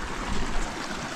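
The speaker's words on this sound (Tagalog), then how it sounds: "dito sa gilid ng palayan may maagos na ilog galing sa bundok" A swift mountain river rushes along the edge of rice paddies in Buscalan, a close, dense, continuous watery rush with no voices over it.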